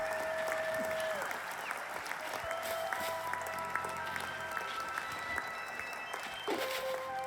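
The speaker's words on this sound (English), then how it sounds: "let me give you a round of applause" Continuous clapping and applause from a crowd, steady and dense throughout, with game music and chiming tones layered over it; an applause emote in the video game Beyond Contact.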